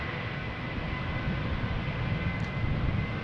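A Transavia Boeing 737-800 bound for Naples departs Amsterdam Schiphol, its jet engines a loud, steady broadband roar that holds constant throughout.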